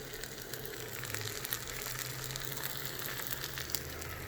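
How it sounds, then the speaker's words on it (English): Grilled cheese sizzles quietly and steadily in a pan, with soft crackles and pops over a constant hiss. "can you guys hear it sizzling?"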